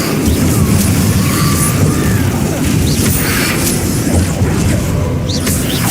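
Fire spell cast in the video game Hogwarts Legacy, a continuous loud roaring, booming burst of flame and crackling blasts that runs unbroken through the whole stretch amid other spell effects.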